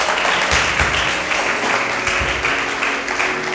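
A church congregation applauds during a service, producing a dense, continuous wash of clapping that holds steady and loud throughout.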